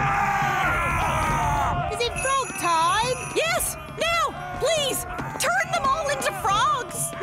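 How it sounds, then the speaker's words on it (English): Cartoon Vikings in a children's animated show run about shouting and yelling, a busy jumble of excited voices, whoops and screams close up, after a brief tinkling magic chime at the start. "Vikings! Running around and shouting!"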